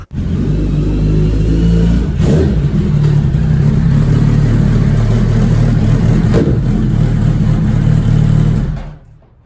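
A Suzuki Hayabusa motorcycle engine rumbles steadily while riding down a mountain, held in a lower gear at slow speed, a loud close drone with brief swells before fading out at the end.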